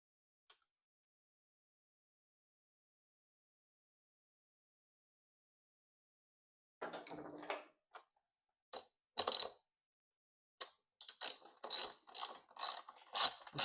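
A ratchet wrench tightening a nut on the wheel of a 1999 Honda XR100R motorcycle, heard as bursts of crisp clicking that begin after a long silence and grow quicker and louder toward the end, close and isolated.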